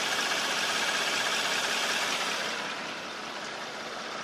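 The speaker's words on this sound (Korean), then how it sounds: "엔진 소음 먼저 들려드리면은" A car engine idles with the hood open, likely a well-maintained car with 60,000 km on it: a steady, even, close hum that holds for about three seconds before settling slightly quieter, with no voices.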